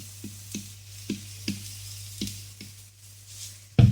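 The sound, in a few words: mushroom stems frying in oil with onion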